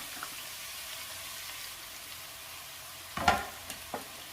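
Soft, steady sizzle of onions frying in coconut oil over medium flame, faint and continuous, with a brief clatter of stirring near the end.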